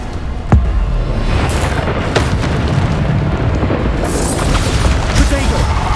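Bombarda explosion spell blasts in Hogwarts Legacy combat, a sharp booming burst near the start followed by continuous rumbling battle noise and further impacts, with game effects layered throughout.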